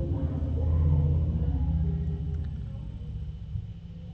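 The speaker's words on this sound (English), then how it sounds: "That was a motorcycle that went by with a stereo going." A motorcycle with its stereo playing passes by, a low rumble that swells in the first second and slowly fades over about four seconds, with faint music-like tones riding on top.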